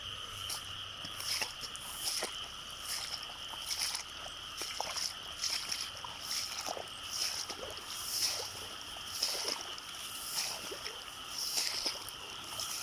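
Water runs steadily into a sugarcane field under a loud bed of insects and frogs, with a few faint splashes and no talking.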